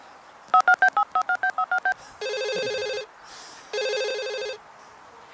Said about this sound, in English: it's time for the Crankworx hotline.